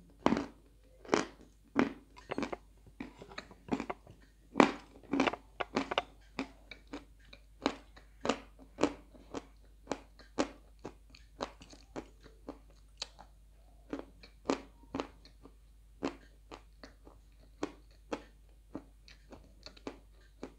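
Dry white chalk is crunched and chewed up close, with sharp, irregular bites and crackly crushing repeating steadily throughout, with no talking.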